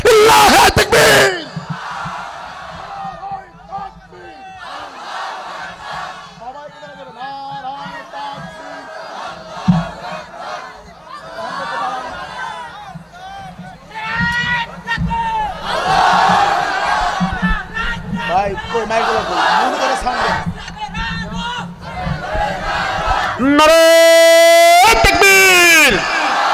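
A large crowd at a Bengali Islamic religious gathering roars back a takbir chant, voices swelling into loud collective yells and bellows, with one sharp rising shout near the end over sustained crowd noise.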